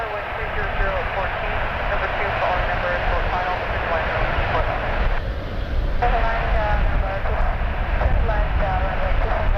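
Air Canada airliner bound for Lisbon passing close at Toronto Pearson airport, a loud continuous roaring engine rumble through the whole stretch, with people talking over it.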